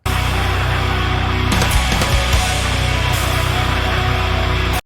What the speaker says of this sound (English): Listen to the top end of the guitar tone.